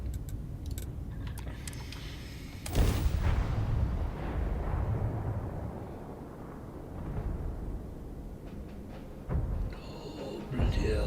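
Frag grenades exploding in the Starfield game, a sudden heavy blast partway through that rolls into a long rumbling decay, with a second, smaller burst later, mixed with keyboard clicks and faint game sounds.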